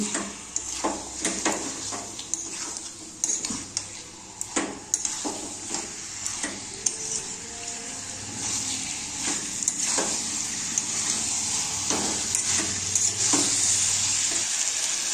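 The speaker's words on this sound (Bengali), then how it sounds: "মশলার সাথে চিকেনগুলোকে মিশিয়ে নিচ্ছি।" Chicken pieces being stirred with spices in a hot pan for a kurma, with steady sizzling frying and repeated scraping knocks of the spoon against the pan.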